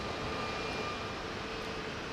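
A heavy cargo freighter jet taking off at Heathrow's runway 09R, a steady, broad rumbling roar of jet engines at some distance.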